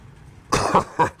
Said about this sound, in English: I get a little bit of a cough sometimes